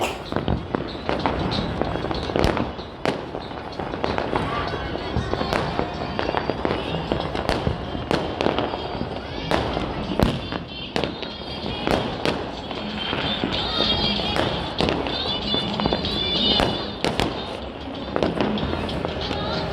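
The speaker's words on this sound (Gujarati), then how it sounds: "ચારે બાજુ ધૂમધામથી ફટાકડા ફૂટે છે" Dense, continuous crackle of firecrackers and fireworks bursting all around during the Uttarayan kite festival, sharp bangs overlapping nonstop with faint voices in the background.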